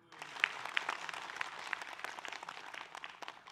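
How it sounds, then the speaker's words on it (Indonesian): An audience applauds at a religious talk show, a steady patter of many hands that rises quickly and holds, with a few sharper claps standing out, moderately distant and fairly quiet. "Mana tepuk tangannya?"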